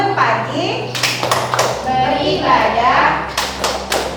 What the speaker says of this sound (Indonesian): Kita akan mempraktekkan tepuk anak Indonesia hebat.